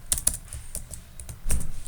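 Code is typed on a computer keyboard during a machine learning lesson in Python, with a quick run of close, crisp key clacks, some heavier strokes, and no talk.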